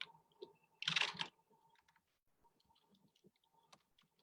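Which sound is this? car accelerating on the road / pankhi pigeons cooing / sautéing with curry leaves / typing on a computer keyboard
typing on a computer keyboard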